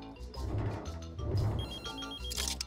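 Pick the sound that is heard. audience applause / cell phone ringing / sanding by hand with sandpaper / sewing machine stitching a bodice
cell phone ringing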